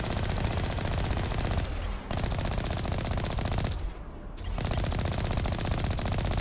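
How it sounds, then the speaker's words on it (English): Turrets in Mass Effect fire sustained rapid automatic bursts, loud and continuous, broken by two brief pauses. "Oh, we're getting shot by two of them."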